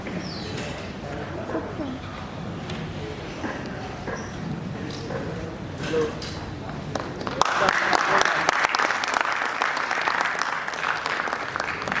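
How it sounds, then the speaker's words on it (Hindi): Audience applause for a female announcer at a theatre festival stage event, starting as scattered claps under someone speaking, then bursting into loud, dense clapping from the crowd. "उनके लिए जोरदार तालियां"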